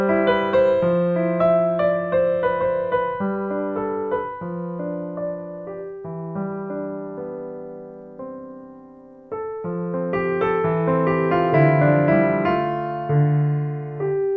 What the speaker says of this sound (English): So let's listen to a little bit of the opening of this nocturne in A